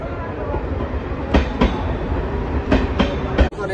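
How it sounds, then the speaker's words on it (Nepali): A train pulls in and runs along the rails at a station, its loud, rhythmic wheel clacks repeating in pairs over a continuous rumble. "रेल आयो, रेल गाइज"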